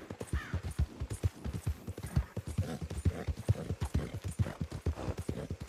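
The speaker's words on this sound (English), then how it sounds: "Can't ride my horse too hard either, because you'll run out of stamina by the time we get there." Horse hooves gallop across open country in the Red Dead Online video game, a rapid, rhythmic thudding beat of clip-clop strikes, steady and fairly close.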